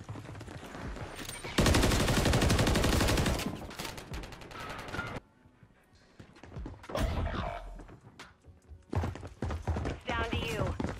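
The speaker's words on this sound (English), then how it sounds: "Try one more with the SMG." Submachine gun fire in Modern Warfare 3 search-and-destroy play: loud rapid bursts of automatic shots, one long dense burst followed by shorter volleys and gaps with other game sounds.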